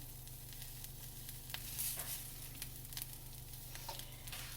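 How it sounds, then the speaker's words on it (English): An egg frying in an iron skillet gives a steady, close sizzle with a low hum beneath it and a few faint crackles and pops scattered through. "I don't think a iron skillet is really the best skillet for cooking an egg"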